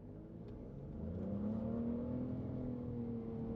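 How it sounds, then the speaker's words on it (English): 2023 Nissan Rogue in sport mode accelerating hard from a standstill toward 60, engine drone climbing steadily in pitch over a few seconds, heard faintly from inside the cabin without talk. "So I'm going to go ahead and do a quick 0 to 60. I'm going to go ahead and put it into sport mode"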